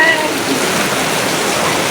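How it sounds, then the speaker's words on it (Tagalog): Heavy rain pours steadily in a dense, even hiss during a bus trip from Silay to Isabela in Negros, loud and continuous with no pauses, and no voices heard. "Lakas ang ulan!"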